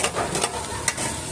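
Chillies are stirred in a sizzling pan for Bicol Express. There is a continuous frying hiss with scraping stir strokes close by and no talking.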